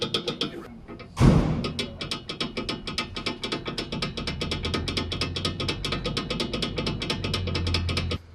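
A loose securing nut on a car's front suspension drop link produces a rapid, steady series of sharp mechanical clicks and knocks, close and loud, running continuously with a heavy thump early on.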